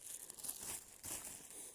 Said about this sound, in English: I have a plastic bag that I'm gonna sit on because it's all wet here.